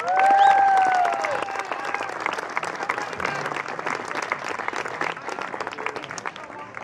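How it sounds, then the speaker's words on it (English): Steady applause from a crowd at a high school baseball game, loud from the first moment and holding for about seven seconds, with a few whistles and scattered cheers mixed in. "Give him one more round of applause."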